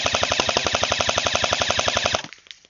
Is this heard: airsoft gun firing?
yes